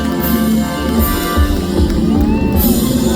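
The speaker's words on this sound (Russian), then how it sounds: "Давайте поаплодируем, друзья. Ура!" A large outdoor crowd on a city square during Yakutsk's 390th anniversary celebration cheers loudly, with whoops and shouts in a steady, dense roar that carries through the whole moment.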